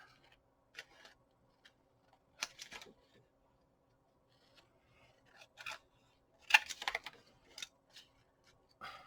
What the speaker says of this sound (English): These are my glue scissors.